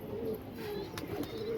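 Pigeons coo in a steady low warble close at hand, a faint murmuring drone with a couple of brief clicks and no speech.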